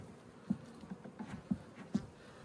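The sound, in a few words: honeybees buzzing in a hive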